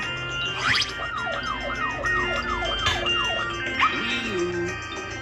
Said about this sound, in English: A police car goes whee-oo, whee-oo, whee-oo.